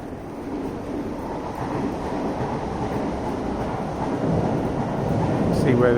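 A passing train near Ladbroke Grove in London produces a steady low rumble that swells slightly toward the end, heard alone without talk.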